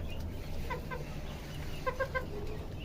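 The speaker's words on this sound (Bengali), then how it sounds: "এই যে মুরুগ" Hens cluck softly nearby in short clusters of two or three notes over a low, steady background hum.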